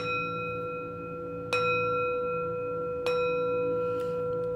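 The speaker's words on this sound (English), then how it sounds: "I'm going to ring this bell to break up the energy" A hand bell rung during a spiritual energy-clearing session strikes twice, about a second and a half apart, each bright strike leaving clear, sustained ringing tones that hang steadily in a quiet room.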